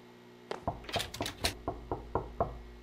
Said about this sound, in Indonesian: oh, ada suara ketok-ketok di situ.